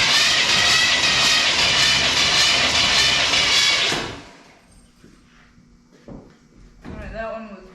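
The starter on a '78 K5 Blazer small-block Chevy cranks slowly during a compression test, giving a loud, steady whirring grind for about four seconds that then cuts off, followed by quieter shop sounds and talking.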